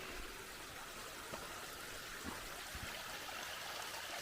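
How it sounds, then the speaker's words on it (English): Shallow stream water rushes steadily over rocks at a hiking trail crossing near Rufus Morgan Falls in Franklin, North Carolina; a soft, continuous, even wash of flowing water with no voices. "Here we got another water crossing."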